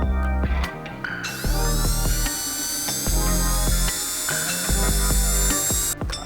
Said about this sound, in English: So we're gonna go ahead and drill this one out.